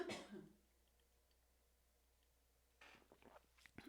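A single cough or throat clear bursts out at the start, then near silence follows until a few faint rustling, mouth-like sounds near the end.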